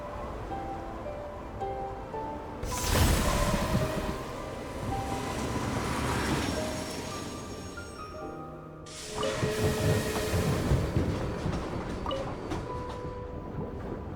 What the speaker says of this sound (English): decide to use an old train we found in a cave to get there